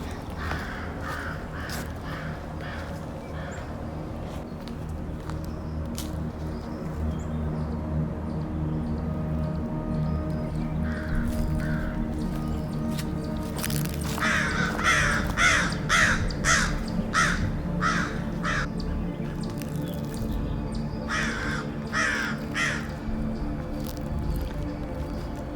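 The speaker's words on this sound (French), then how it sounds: "Il y a plein de corneilles." Crows caw repeatedly at an abandoned site in Quebec, loud harsh calls in bursts and quick series over a steady outdoor background, some near and some farther off.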